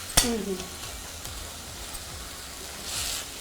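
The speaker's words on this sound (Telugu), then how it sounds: "ఆయిల్లో బాగా ఫ్రై చేయాలండి." Sliced onions fry in oil in a pan, with one sharp clatter at the start and then a low, even sizzle running faintly underneath.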